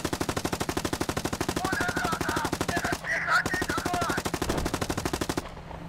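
Rapid automatic gunfire from a tank's machine gun in a PC tank combat game, with continuous fast bursts filling nearly six seconds, a brief pause near the middle, loud and close.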